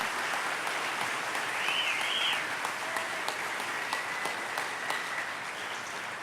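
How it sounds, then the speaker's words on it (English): An awards ceremony audience applauds in a steady wash of clapping, with a few sharper individual claps and a brief whistle-like tone partway through. "Please join me in a round of applause"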